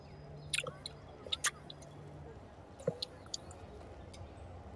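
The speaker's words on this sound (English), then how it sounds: "Are you making chewing noises?" Close, quiet chewing and squishing mouth sounds from a person, a few scattered wet smacks and crunches over a low background hum.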